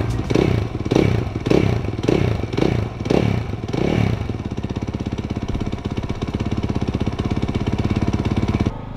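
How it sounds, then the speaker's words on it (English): Go-kart engine at a go-kart track, first revving in several rhythmic surges, then settling into a steady, close, buzzing idle. "we're out here at the go-kart track, ready to go with Nathan Gouker"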